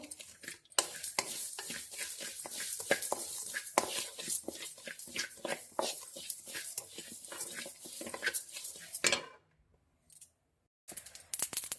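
Sesame seeds dry-roasting in a pan crackle and pop in quick irregular bursts while being stirred. The crackling is close and busy for most of the time and stops briefly near the end before resuming.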